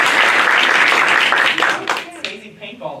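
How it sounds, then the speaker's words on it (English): An improv show audience claps loudly to vote on a suggestion, a burst of dense applause that fades out after about two seconds into a few scattered claps and a voice. "Clap if you want to hear that one"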